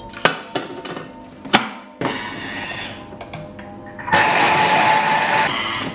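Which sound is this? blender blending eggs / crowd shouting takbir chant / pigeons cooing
blender blending eggs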